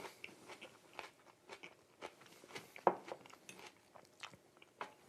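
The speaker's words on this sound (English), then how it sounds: "It's crunchy. You can probably hear me crunching." Close, crisp crunching bites and chewing on corn on the cob, repeated in an irregular rhythm with brief quiet gaps, no talking.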